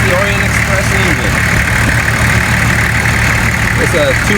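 A Nissan RD28 2.8 liter diesel engine idling, a steady loud low clatter and hum that runs unbroken throughout, with someone talking faintly over it.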